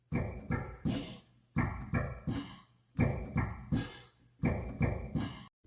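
A punchy, looping beat of thuddy percussive hits made from drawer sounds, with a bright snare-like crack, washed in reverb, repeating in a steady pattern with no talking.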